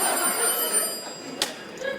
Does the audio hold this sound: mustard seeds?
no